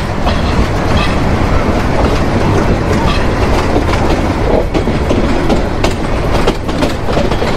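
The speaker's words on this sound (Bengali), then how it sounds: "আমাদের ট্রেন কিন্তু রাইট টার্ন নিল।" The Teesta Express passenger train runs on rails through a right-hand curve, heard from on board as a loud, continuous rumble with rhythmic clickety-clack of the wheels.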